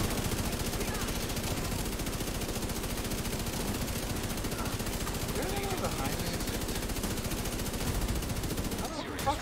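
Sustained rapid automatic gunfire from The Division 2 rattles continuously for several seconds, dense and loud, with an even machine-gun rhythm as the player takes hits, and voices mixed underneath.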